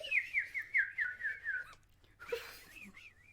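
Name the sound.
whistled birdsong imitation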